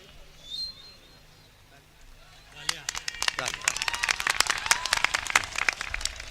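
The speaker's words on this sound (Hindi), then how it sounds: "तालियों से आप हज़रात इनका इस्तकबाल करें।" Audience applause welcoming an award recipient at an Indian mushaira poetry gathering; after quiet talk, dense clapping breaks out and builds, fairly close and loud, continuing to the end.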